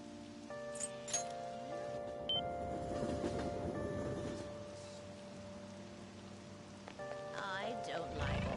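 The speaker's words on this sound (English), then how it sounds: "I don't like all this rain." Rain falls steadily in a battle royale video game, a soft continuous patter of drops under background music tones, with a voice briefly heard.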